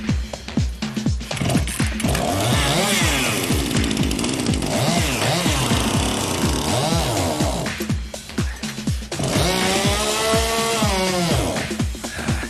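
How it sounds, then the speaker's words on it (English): A chainsaw engine pulls a homemade scrapheap car, running loud and close with rising and falling revs and a brief drop partway through. "Will their chainsaw have enough pulling power?"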